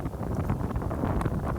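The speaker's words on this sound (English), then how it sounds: "It was very windy up there, so hence the wind that you can hear." Strong wind buffets the microphone high up at the Pyramids of Giza, a dense, rumbling, uneven roar that fills the whole short stretch without any voices.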